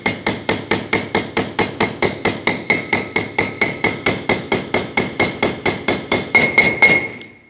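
A hammer drives a wheel bearing race into the hub of a 1995-2004 Toyota Tacoma 2WD. About thirty sharp, evenly spaced metallic blows land at a steady quick rhythm, and the ringing tone shifts near the end as the race bottoms out.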